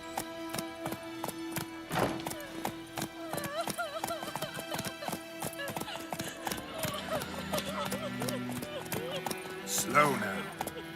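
Hoofbeats of Roach, Geralt's horse in the video game The Witcher 3: Wild Hunt, clip-clopping steadily under background music, with a voice talking over the trotting throughout.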